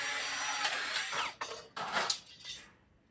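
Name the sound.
power tool with attachment cutting a roofing sheet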